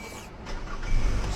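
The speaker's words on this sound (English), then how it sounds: "start the car." A car engine starts with a newly cut key, a short whirring crank catching into a steady idle, close by and moderately loud.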